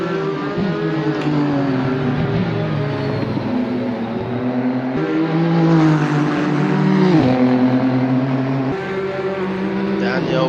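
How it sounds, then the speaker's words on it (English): A Porsche race car on the Sebring circuit in a racing video game climbs through its gears, the engine note rising and dropping with each shift, loud and up close, with a commentator talking over it. "Klaus Clint going through those gears in that Porsche"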